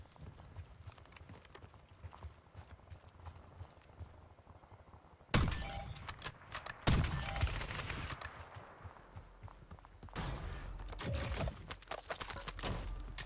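A burst fire weapon in a video game lets off loud, close clusters of rapid shots, a sudden volley after a quieter stretch of hoofbeat-like clatter, then more bursts toward the end.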